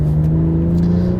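A manual 2016 BMW M240i with nearly 370 pound-feet of torque going to the rear wheels accelerates hard, giving a loud, steady engine drone heard from close by inside the car.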